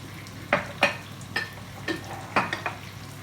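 A spoon stirs kokoreç in a sizzling pan with chili and black pepper, giving about seven quick scraping clinks in an uneven rhythm over a steady, quiet frying hiss.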